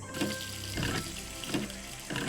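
Tap water runs in a steady stream from a faucet in the video game Nancy Drew: Ghost Dogs of Moon Lake, a continuous close splashing that keeps going through the whole moment with soft game sounds mixed in.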